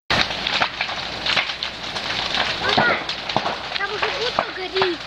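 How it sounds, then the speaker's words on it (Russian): Dry wooden sheds burn near a railway station, the fire giving off dense crackling and snapping pops over a roaring background, with voices heard in the middle of the blaze. "По всей округе был слышен треск сухих досок."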